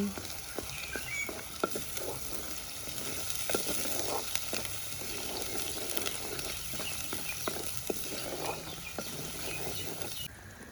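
Chili powder is stirred into a sizzling pan of frying masala for a dried fish curry, a soft steady hiss under repeated scraping and tapping of a spoon against the pan, faint and close.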